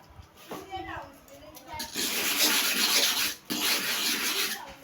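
A clipper blade rubs against a manual sharpening stone in close, gritty scraping bursts that grow louder and more continuous after a quieter start.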